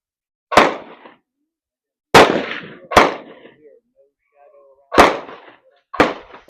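Five loud, close gunshots at an outdoor shooting range, spaced irregularly, each a sharp crack followed by a short echoing decay, with near silence between them.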